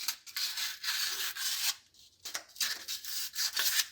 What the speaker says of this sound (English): I clean up the sand a little bit so to make sure